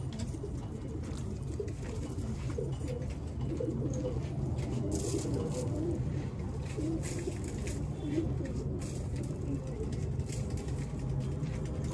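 Pigeons coo softly while pecking grain in a netted coop, a low murmuring bird sound running steadily beneath dense, constant background noise.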